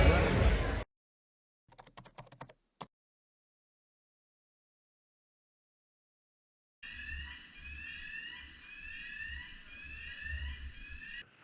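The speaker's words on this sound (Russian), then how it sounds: "Это парковался к нашему лайнеру мостик в терминал, и при парковке он издавал вот такие вот звуки" A terminal gangway bridge docking to a cruise ship in Barcelona gives a repeating alarm-like electronic beep-buzz pattern, steady and moderately loud over low mechanical hum, after a short stretch of silence.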